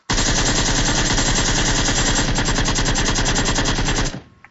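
Sustained automatic gunfire in a shooter video game with reduced recoil: loud, rapid and evenly spaced shots running continuously for about four seconds before stopping abruptly, with no talking.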